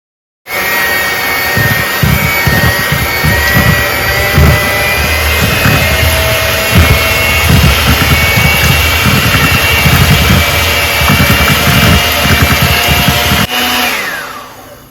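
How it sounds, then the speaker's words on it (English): Electric hand mixer whirs steadily and loudly up close while blending sweet potato pie filling with brown sugar, evaporated milk and vanilla, running for about fourteen seconds with slight uneven rattling before winding down. "Now you want to use your hand mixer."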